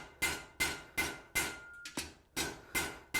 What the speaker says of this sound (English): I'm going to lay that on the edge of the anvil. I'm going to give her a couple licks.